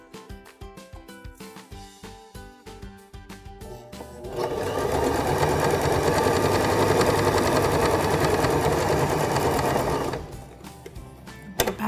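A sewing machine stitches elastic around a skirt made from a shirt. Short bursts of stitching come first, then a loud, steady, continuous run of several seconds, then it stops, close and without talk.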